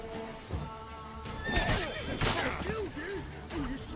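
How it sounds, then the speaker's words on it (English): A horse in The Witcher 3 video game neighs loudly, its whinny rising and falling in several wavering calls, with hoof clatter and a sharp impact suggesting a kick, amid background game noise. "And I did catch his horse on accident, so I deserved that kick."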